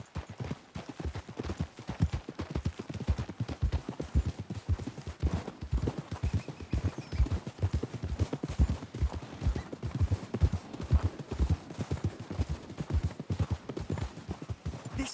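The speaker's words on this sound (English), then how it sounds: "We should leave the horses." Horses' hooves clip-clop steadily in Red Dead Redemption 2, a continuous rhythmic trot of several animals close by, running without pause for the whole stretch.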